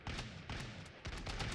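Musket volleys crackle in Totally Accurate Battle Simulator, a Renaissance-era battle game: rapid bursts of gunfire in quick repeated clusters, faint and distant-sounding, with no talking.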